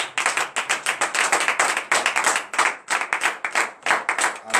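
Church congregation at a Monday morning prayer service in Benin clapping in praise, rhythmic and fairly close: brisk repeated hand claps in quick bursts with short gaps, no talking, steady and moderately loud.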